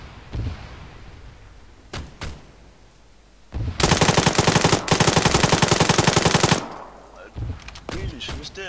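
Sustained automatic machine gun fire in the military shooter ArmA 3, a loud rapid burst lasting about three seconds, preceded and followed by a few scattered single shots and distant pops.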